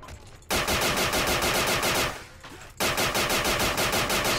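Gunfire in the video game Black Ops 2 nZombies: two long, loud streams of rapid automatic fire, split by a brief quieter gap, with steady, evenly spaced shots.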